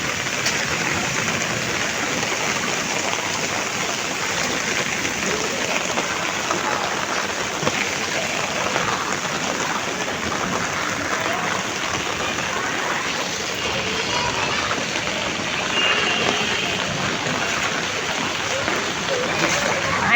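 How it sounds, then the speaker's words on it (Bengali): Heavy rain pours down at Cox's Bazar amid street flooding, a dense, steady roaring hiss that stays loud and unbroken for the whole stretch with no voices. "বৃষ্টি"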